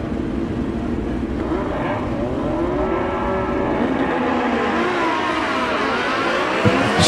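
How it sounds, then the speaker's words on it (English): A drag racing car launches with tire spin at the 2019 Mancup World Finals: a loud, sustained engine roar rises in pitch over several seconds, heard from some distance across the track. "Spencer Allen spun the tire and still got a red light."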